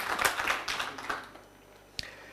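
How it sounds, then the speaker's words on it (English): Scattered audience clapping at the opening of an annual workshop, a brief round of applause that starts modestly, thins out after about a second, and ends with one isolated sharp clap. "I think your grant deserves an applause."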